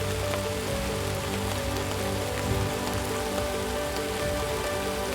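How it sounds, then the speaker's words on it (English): Steady rain patters on a surface outside near a puddle, a dense, even hiss that carries on without a break and with no voices. "when it rains just enough"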